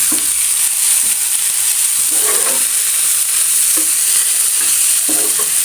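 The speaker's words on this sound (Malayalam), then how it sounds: "നമുക്കിനി വേവിച്ച് വെച്ച പരിപ്പിട്ട് കൊടുക്കാം" Cooked salted lentils stirred into sizzling amarapayar (winged bean) thoran in a frying pan, a steady loud sizzle and hiss with repeated scraping strokes of the spoon throughout.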